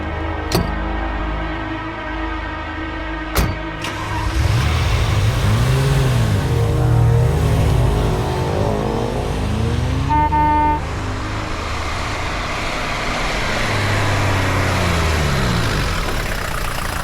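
A car engine idles nearby after a couple of sharp door thuds, then revs up and pulls away, its sound lingering as it moves off.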